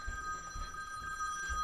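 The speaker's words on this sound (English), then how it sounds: "there's my phone" A telephone rings with a steady electronic tone held throughout, fairly faint against a low background rumble, with no talking.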